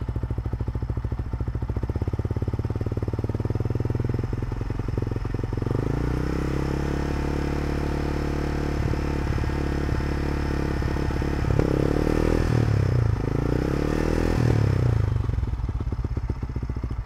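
Yamaha Vixion motorcycle fitted with a Ninja 250Fi exhaust, idling close up and then blipped into a few moderate revs, the engine note rising and falling steadily with no talking.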